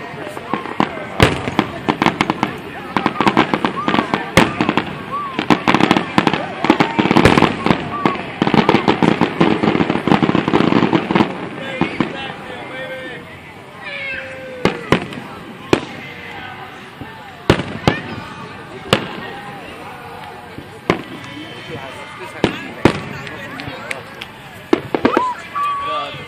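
July 4 fireworks burst in rapid, loud overlapping volleys with sharp crackling pops, then thin out into scattered distant booms, while a crowd murmurs and people talk throughout.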